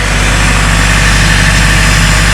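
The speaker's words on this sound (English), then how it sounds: "It's got a 4-cylinder John Deere engine in it." The 4-cylinder John Deere engine of a combine harvester runs at a steady idle, a loud, close, continuous low rumble with no other sounds.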